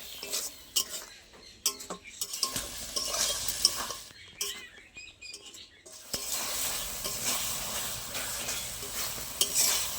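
Whisked yogurt being stirred into frying masala for mutton liver, with continuous scraping of a spoon against the pan over a soft sizzle, close and moderately quiet, with no talk.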